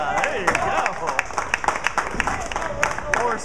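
A bowling crowd claps and cheers after a strike at a Sunday afternoon tournament, steady applause with sharp individual claps over a murmuring crowd, close and fairly loud, with voices mixed in.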